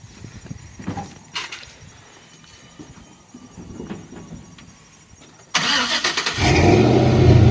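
A 2004 Chevy 1500 pickup's 4.8L V8 engine cranks and cold-starts abruptly, settling into a loud, rough idle close by after several seconds of quieter background noise.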